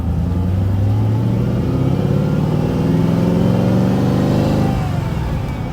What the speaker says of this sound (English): Man, this thing is idling like garbage. The carburetors need to be